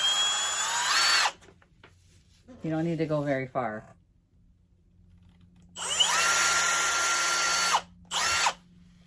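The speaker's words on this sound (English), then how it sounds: "you want to make sure you pre-drill your hole" A power drill pre-drills a hole into a wooden frame under repair, running in two loud, steady bursts, with a short stretch of speech between them.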